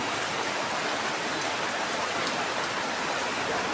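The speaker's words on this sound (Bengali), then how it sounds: "বৃষ্টির শেষ নাই।" Heavy monsoon rain pours down in a dense, unbroken roar of drops on surfaces, loud and constant throughout with no voices.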